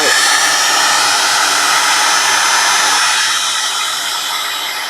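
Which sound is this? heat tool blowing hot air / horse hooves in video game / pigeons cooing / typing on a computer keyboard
heat tool blowing hot air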